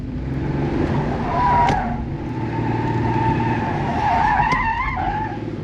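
Tires of a Porsche 964 skid and squeal in two bursts during a handbrake drift attempt, with the engine droning steadily underneath, fairly close and loud.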